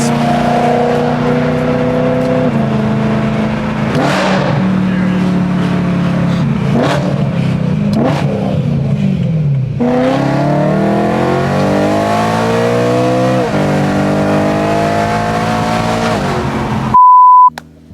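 A BMW E9x M3 engine revs hard through a run of quick, crisp gear shifts, rising and dropping again and again, loud and close for the whole stretch, then cutting off abruptly into a short beep.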